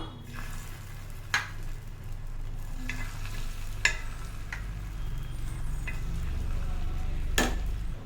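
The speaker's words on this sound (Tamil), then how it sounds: "இப்போ நமக்கு எந்த சைஸ் வேணுமோ ரவுண்டு அந்த சைஸ் ஊற்றிக்கலாம்" Omelette batter poured into a hot oiled pan, giving a steady, close sizzle and crackle that runs throughout, with a few sharp utensil clicks and taps against the pan.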